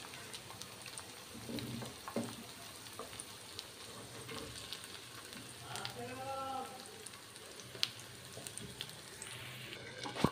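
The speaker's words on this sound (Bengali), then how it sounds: "গরম তেলে পাকোড়াগুলো আমরা সাধারণ নিয়মেই ভেজে নিব।" Gourd pakoras frying in hot oil, a steady soft sizzle and crackle with occasional bubbling pops, fairly quiet and continuous throughout.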